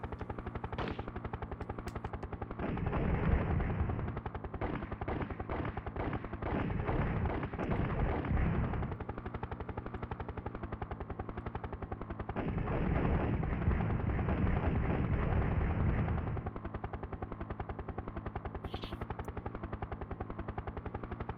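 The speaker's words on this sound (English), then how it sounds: "I've spent so much ammo trying to blow this thing up." Gunfire from the Urban Strike video game crackles in rapid machine-gun bursts over a constant droning engine hum, with two long sustained volleys separated by quieter stretches and a faint chime near the end.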